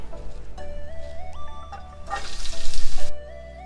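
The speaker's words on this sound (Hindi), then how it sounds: "अब इसमें मैं 2 चम्मच कुकिंग ऑयल डालकर प्याज को सौते कर लूंगी।" Oil sizzles and crackles steadily as onions sauté in two spoons of cooking oil in a pan, swelling louder near the end before dropping off abruptly.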